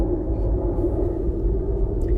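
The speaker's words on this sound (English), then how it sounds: "we're by an airport, so, excuse the plane noises." A steady low rumble of a distant aircraft droning overhead near an airport, broad and continuous with no talking.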